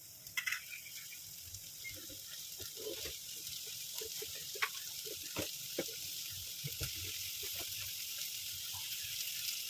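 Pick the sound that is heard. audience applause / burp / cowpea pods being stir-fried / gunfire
cowpea pods being stir-fried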